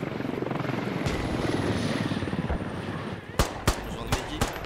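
An enemy helicopter passes overhead in the Squad military video game, its rotors giving a steady thrumming drone. Several sharp, loud bangs like gunfire punch through near the end.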